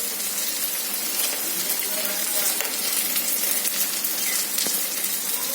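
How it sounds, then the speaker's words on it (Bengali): Chopped green chillies and spice paste fry in a pan with a dense, steady sizzle like rain, sounding close and loud, with faint stirring scrapes underneath. "লঙ্কা কুচিগুলো দিয়ে দিলাম। মশলাটা ভালো করে কষিয়ে নেব।"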